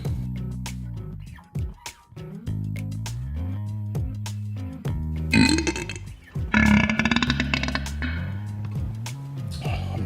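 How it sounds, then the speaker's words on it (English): A man burps repeatedly after drinking a lot of coffee, a long run of loud, drawn-out belches close to the microphone, one after another with brief pauses and no talk. "Burping so much this morning."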